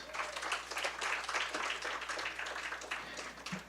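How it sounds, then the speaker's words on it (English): Steady applause from a crowd at a high school baseball game, a dense wash of clapping that holds throughout at moderate distance. "Let's give a big round of applause"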